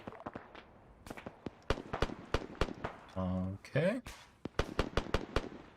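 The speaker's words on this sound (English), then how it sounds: "we're taking accurate fire from the north" Sharp gunshots crack repeatedly in a military milsim session of the video game Arma 3, scattered single shots and bursts with a few louder close reports, while a voice speaks briefly over the firing.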